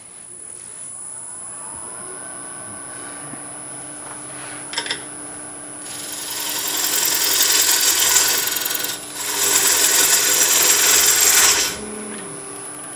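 Red maple wood spinning on a lathe while a woodturner cuts it, a steady machine hum joined by two loud, harsh bursts of gouge cutting separated by a brief pause.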